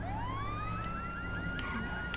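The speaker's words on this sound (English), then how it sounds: "They got an alarm going off" A car alarm sounds in GTA 5, a steady rising wail with warbling tones, moderately loud over engine rumble.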